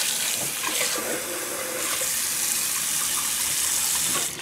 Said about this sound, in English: Put more water over it.